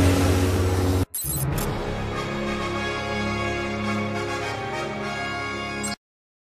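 Spacecraft jets fire up in Star Wars The Clone Wars: Republic Heroes, a loud steady engine roar that cuts out briefly after the first second, then resumes with rising tonal whine and holds until a sudden stop.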